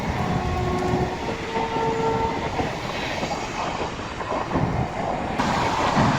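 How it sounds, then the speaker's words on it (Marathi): A train rumbles past close by at Diva, wheels clattering steadily, with a brief horn tone early on and a constant loud roar throughout. "हे जवळ समोर ट्रेन जाते हे बघू शकता तुम्ही"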